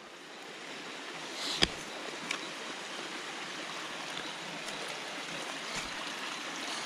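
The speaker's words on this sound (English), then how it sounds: "turned into a little bit of a waterfall after the rainstorm." Rainwater pouring into a freshly hand-dug well like a small waterfall, a steady rushing splash heard throughout, with a few sharp knocks and clicks over the flow.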